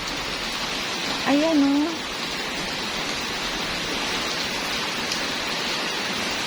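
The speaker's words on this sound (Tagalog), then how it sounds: "Akala ko, tapos na ang ulan. Hindi pa pala." Steady rain falling outdoors, an even hiss of drops close by throughout, while someone says a few brief words early on.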